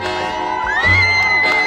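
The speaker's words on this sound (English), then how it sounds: "Lots of waving and cheering." Crowd noise with whoops and cheers as formal guests and high-ranking figures arrive, a loud continuous swell of voices with shouts rising over the din.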